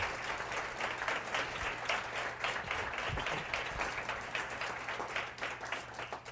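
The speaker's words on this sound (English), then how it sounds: "So why don't we give them a round of applause and thank them for being here." An audience at a public discussion event claps for its guests, a fairly close, continuous patter of many hands with a few sharper individual claps standing out, holding steady to the end.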